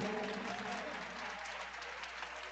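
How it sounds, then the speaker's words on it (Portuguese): A crowd applauds steadily, dense clapping that starts strong and eases slightly, heard alone without talk. "Uma salva de palmas, gente."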